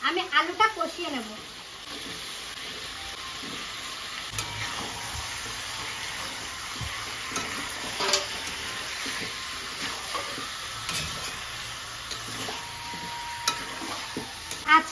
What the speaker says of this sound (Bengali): তাই চিকেন দিয়েই আমি আলুটা কষিয়ে নেব।